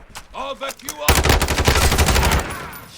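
Gunfire from Call of Duty Modern Warfare 2 bursts in loud, rapid automatic volleys after someone speaks, the close crackling shots running for over a second before trailing off.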